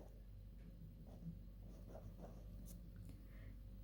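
A pen or pencil writes radius figures on paper during a maths lesson, with faint scratchy strokes over a steady low hum and no talking.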